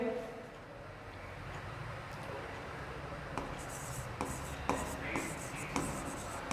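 Chalk or marker scratching on a board during a Class 10 maths lesson on polynomials, a series of faint, soft strokes and taps that grow more distinct toward the end, with quiet room noise behind.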